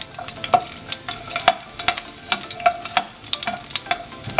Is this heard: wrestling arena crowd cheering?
no